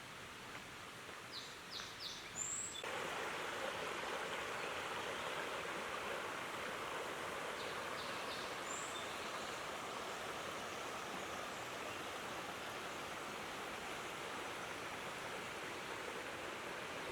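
Waterfall at Alsea Falls, Oregon, a steady broadband rush of falling water that swells in after a few seconds of quieter forest ambience with faint bird chirps, then holds constant and close.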